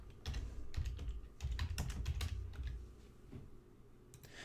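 Someone types on a computer keyboard, adding text in a simple build tool: bursts of quick, close key clicks with short pauses in between, heard alone without talk.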